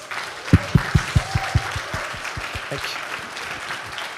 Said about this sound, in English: I would like to invite you all to give a round of applause to Mr. Carl Gershman